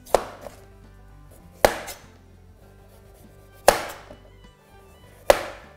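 Four sharp knife chops ring out on a cutting board as a hard-skinned butternut squash is cut and peeled, evenly spaced about a second and a half apart, each a crisp close thud with a short decay.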